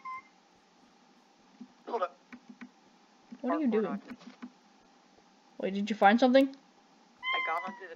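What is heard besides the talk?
pet cat meowing for attention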